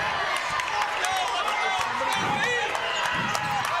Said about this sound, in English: Here comes the Hope College crowd getting into this basketball in the game now